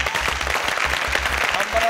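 A TV studio audience claps for a team introduced on a game show, giving a steady burst of applause with a low rhythmic thumping underneath, at moderate loudness.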